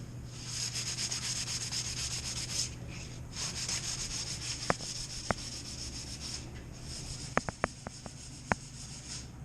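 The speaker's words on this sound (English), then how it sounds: "we're going to go over all the wood and sand down the wood and make that look real pretty before we re-lacquer it" Steady sanding across the wooden parts of ice fishing tip-up traps, a continuous abrasive rubbing that runs throughout, broken by a few sharp clicks and taps near the end.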